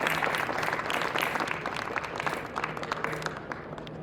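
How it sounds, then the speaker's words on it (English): Steady crowd applause fills the hall at a coatings contractor awards ceremony, moderately loud and sustained, tapering slightly toward the end. "Let's give them a big round of applause."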